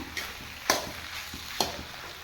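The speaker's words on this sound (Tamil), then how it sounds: "இந்த மசாலா ரெடி பண்ணும்போது மிளகாத்தூள் கொஞ்சம் குறைச்சி போட்டுட்டு திருப்பும்" Masala with chili powder stirred in a pan for egg rice, with a low, steady sizzle and two distinct spoon scrapes against the pan.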